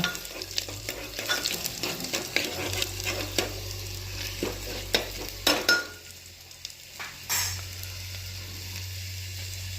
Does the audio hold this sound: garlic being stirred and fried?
yes